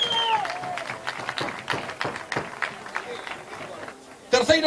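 Crowd applause for prize winners at a downhill soapbox cart race, scattered clapping that rises and falls under an announcer's amplified voice, ending with a louder burst.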